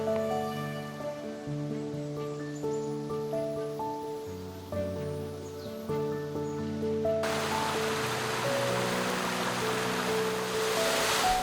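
The cascading waterfalls of the 300-year-old Kassel Wilhelmshöhe water features give a steady broadband rush that swells in partway through, following a stretch of music.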